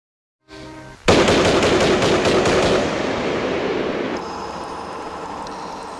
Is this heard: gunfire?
yes